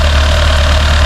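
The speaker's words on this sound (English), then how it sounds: "as you can see, I've started the engine" Renault Clio 'S' Maxim engine idling steadily just after starting, with coolant freshly added to the header tank; a continuous close, loud low hum with a faint mid-range whine and no talk.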